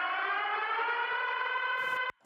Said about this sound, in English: I'll hit this siren